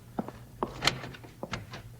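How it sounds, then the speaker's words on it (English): A heavy iron bar is set across a front door in a radio drama, heard as a short series of moderate wooden and metal thunks and clanks, one louder clunk in the middle, with no talking. "I'll check that iron bar we got for the front door"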